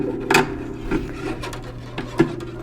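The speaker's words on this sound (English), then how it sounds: "as gently as you can, feed the string through" A phosphor bronze core harp string is fed through the harp, producing a close, dry rasping and rubbing with a few louder scraping bursts against wood.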